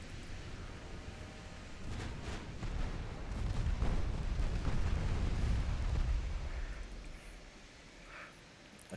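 Naval guns, including 7-inch guns, fire in the Ultimate Admiral Dreadnoughts warship game: distant, muffled rumbling booms that swell into a sustained roar mid-way and then fade back down, fairly quiet overall.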